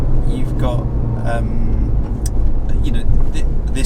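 A Porsche 997 Carrera S 911, fitted with a new subframe, arms, coilovers and brakes, is driven with a steady low engine and road rumble from inside, while people talk over it.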